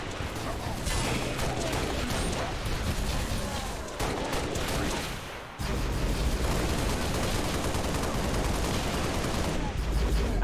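Dense assault rifle fire mixed with explosions in Halo: Reach Firefight, a continuous loud barrage of shots and blasts with brief drops, with faint speech underneath.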